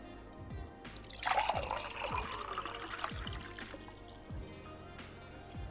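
Water is poured into a glass close by, a gurgling, splashing stream that swells for a few seconds and then tapers off, with small drips and clinks around it.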